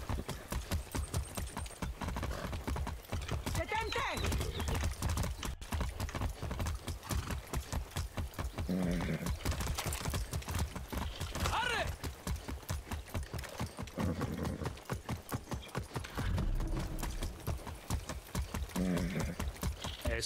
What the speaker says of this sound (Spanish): Vamos a ver qué buen caballo.